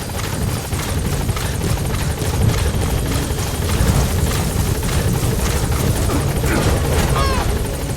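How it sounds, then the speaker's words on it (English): A helicopter's rotor thumps steadily and loudly throughout, a continuous chopping drone with high mechanical whine layered on top; a support helicopter arriving in the video game Metal Gear Solid V: The Phantom Pain. "Support helicopter has arrived."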